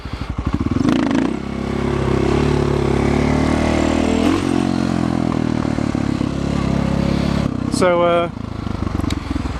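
Motorcycle engine in first gear with the throttle backed off, a steady low engine drone running loud and close throughout, a brief higher revving rise near the end, while someone speaks over it.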